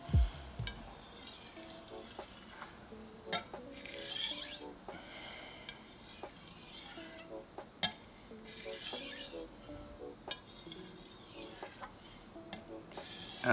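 Stainless steel knife drawn lightly across a whetstone, giving soft repeated raspy scraping strokes with occasional faint clinks, fairly quiet and steady, no talking.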